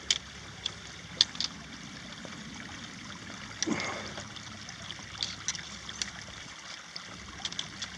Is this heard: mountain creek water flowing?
yes